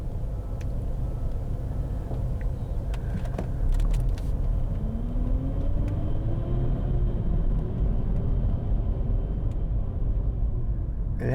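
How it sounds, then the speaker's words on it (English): A semi truck engine rumbles steadily nearby, low and droning, with a faint rising whine as it revs for several seconds. "that's the semi behind me making that noise"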